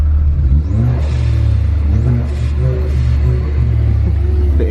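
Car engine fitted with a Tomei exhaust, running loud and close with a steady deep low rumble and slight revving swells throughout, heard at a car meet gathering.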